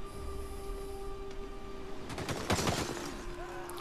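Scorpion Pot Ballistas loosing bolts in Total War Rome 2, a cluster of sharp crackling impacts and whooshes peaking midway over a steady battlefield din with a sustained tonal hum.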